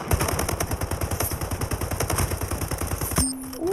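Rapid automatic gunfire in SplitGate free-for-all: a steady, fast stream of close, loud shots that stops abruptly just before the end, followed by a brief mechanical tone.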